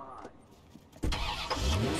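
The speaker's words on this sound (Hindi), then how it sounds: "एक मिनट, अपना गाड़ी भी तो है, इसमें चलना थोड़ा सा" A car engine starts up in the open-world game Watch Dogs, a sudden loud mechanical catch that settles into a steady rumbling idle after quieter background sounds.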